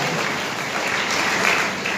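A congregation at a church service claps together in a dense, steady burst of applause, loud and continuous for the full two seconds.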